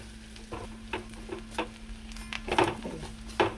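Chili, coriander, black pepper and turmeric powders fry in oil in a pan while being stirred, a soft continuous sizzle broken by scraping stirs and spoon taps, close and without talking.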